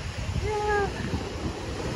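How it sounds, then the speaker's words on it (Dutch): Strong wind buffets a microphone on a beach, mixing with a steady wash of waves, and a brief tonal whistle appears partway through. "ik weet niet of jullie het kunnen horen met al die wind."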